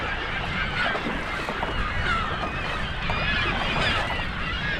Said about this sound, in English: Well, I seem to have angered the birds.